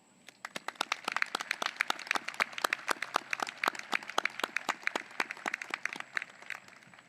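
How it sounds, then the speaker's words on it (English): Audience at a graduate school commencement ceremony claps, a dense run of sharp, rapid handclaps that rises quickly and holds steady for several seconds before trailing off. "Let us thank them with a round of applause."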